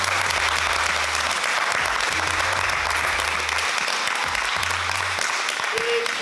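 Participants at a volleyball camp in Munich applaud steadily and loudly, with close, continuous clapping from a group over a low background hum.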